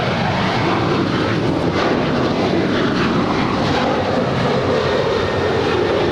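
An airliner taxiing at Los Angeles International Airport, a steady broadband engine roar that holds loud and close throughout with no voices over it.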